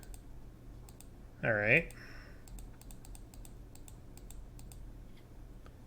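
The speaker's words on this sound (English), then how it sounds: "I don't know if you guys can hear me just clicking this button over and over and over." A button on a computer is clicked repeatedly while playing Magic: The Gathering Online, giving faint, irregular, close-up clicks spread across the clip, with a short spoken phrase near the start.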